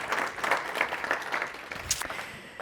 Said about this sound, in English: So we have a small moment of applause again, just to keep things alive.